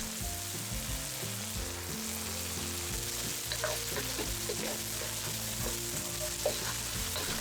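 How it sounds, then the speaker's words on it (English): Frozen green peas fry in oil in a wok with a steady, dense sizzle and crackle that runs unbroken, close and fairly loud, with no voices over it. "Add some more oil to the wok and add the frozen green peas first."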